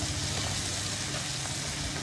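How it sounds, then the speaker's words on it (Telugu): Ginger and curry leaves sizzle in hot oil in a pan, making a soft, steady crackle and hiss that runs unbroken and fairly quiet with no voice over it. "అల్లం అలాగే కరివేపాకు కూడా వేసేస్తున్నాను నేను ఇప్పుడే."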